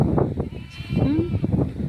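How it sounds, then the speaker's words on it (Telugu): Goats bleat near a village goat pen, with a wavering, drawn-out cry in the middle amid ongoing outdoor noise and quieter animal calls. "ఇక్కడ మేకల సౌండ్స్."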